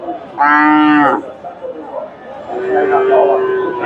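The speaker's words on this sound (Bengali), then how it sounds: "এটা ফ্রিজিয়ান ষাঁড় বাচ্চা, একেবারে অল্প বয়স বাচ্চাটা" A young Friesian bull calf, about four months old, gives a loud, close moo at a cattle market in Bogura, followed by a second, fainter moo amid background market noise.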